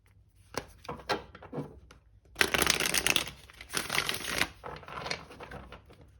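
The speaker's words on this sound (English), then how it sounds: "Let me just turn them over and do one last shuffle here." Hands shuffling a deck of tarot cards, giving a few separate snaps and riffles and then a longer, denser burst of riffling, close and crisp with no talking.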